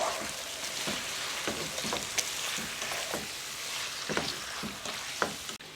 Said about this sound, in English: While my chicken is cooking